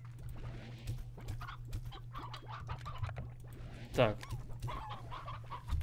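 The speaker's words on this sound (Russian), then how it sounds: "сейчас мы куриц поставим, у нас загон есть" Chickens clucking in the farming game Slime Rancher, brief fowl calls and clucks scattered through the clip over a steady low game hum, with one short spoken word.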